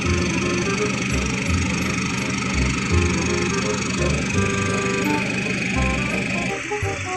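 A loud idling engine exhaust fitted with a bypass pipe, both outlets open, with a rough, rapid, steady pulsing rumble, continuous throughout and close by.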